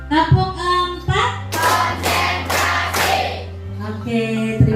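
A classroom group claps through a rhythmic ice-breaking game: a few loud, broad bursts of hand claps in quick succession, with voices chanting and talking around them.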